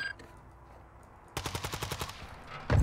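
Rapid automatic gunfire in the shooter game Call of Duty DMZ, a quiet stretch followed by a sharp burst of about ten evenly spaced close shots, then another loud blast at the end.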